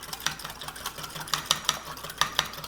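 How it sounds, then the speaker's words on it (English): A vinaigrette being whisked briskly in a bowl, a soft fast rhythmic clicking and scraping repeating several times a second at close range, with no talking. "You constantly whisk it."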